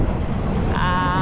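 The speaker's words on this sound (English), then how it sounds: "So I'm now at the inside the train, and yeah, it's gonna be fun." A steady rumbling roar fills the inside of a moving passenger train in Thailand, with continuous wheel and carriage noise close around and no clear speech.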